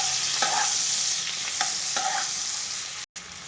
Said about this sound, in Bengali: এবার আমি দিয়ে দেবো কেটে রাখা ক্যাপসিকাম আর টমেটো